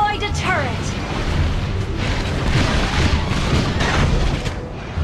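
A turret blows up with a deep boom in the Mobile Legends mobile battle arena game, the blast layered over busy battle effects for several seconds while an announcer-style voice speaks over the action.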